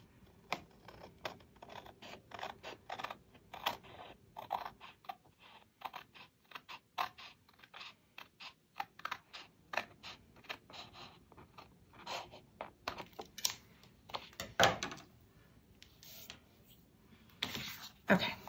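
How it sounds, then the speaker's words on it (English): A planner piece is trimmed with small repeated snips and creaky clicks close by, irregular and quiet, with handling rustle between cuts. "And I'm gonna trim this right now"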